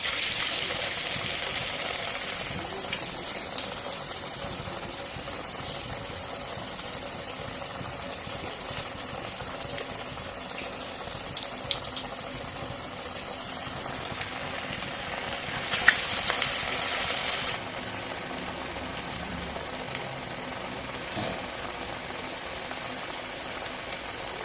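Spicy, crisp chana dal vadas fry in hot oil with a soft, steady hiss and crackle, swelling briefly to a louder sizzle partway through.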